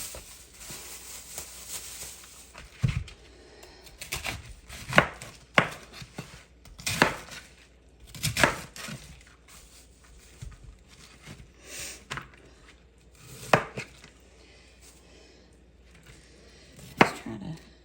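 A knife slices cabbage thinly on a cutting board for coleslaw, making sharp, close chopping knocks in irregular bursts with quiet pauses between them.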